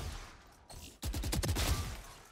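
Gunfire in the video game Valorant as target robots on a practice range are shot, heard as a rapid burst of sharp, close shots after a brief quiet lead-in.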